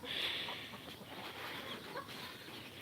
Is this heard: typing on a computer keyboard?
no